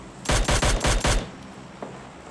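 Sniper rifle fire in the PUBG Lite battle royale game: five loud, evenly spaced shots in quick succession, then one fainter report a moment later over quiet background.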